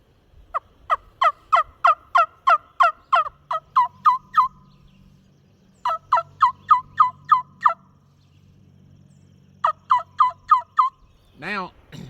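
A Wingwood wingbone turkey caller sucked sharply and hard produces loud yelping series: a rapid run of about a dozen clucking yelps, a pause, a shorter burst, another short run, then a final rising call, all close and crisp.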